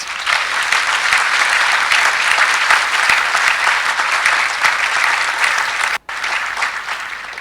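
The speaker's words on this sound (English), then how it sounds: "St. George's University, give yourself a hearty round of applause." A large audience at a medical school white coat ceremony claps loudly and steadily, a dense, sustained wash of applause that cuts off abruptly for a moment before resuming.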